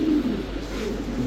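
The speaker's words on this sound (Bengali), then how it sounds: "এটা নর কবুতর, এটাও নর কবুতর।" Male racing pigeons give a low, soft cooing rumble, a brief continuous call heard close up without speech.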